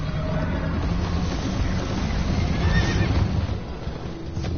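A horse in the video game Minecraft: Story Mode neighs loudly over steady galloping hoofbeats and a dense, rumbling game soundtrack, with no talk.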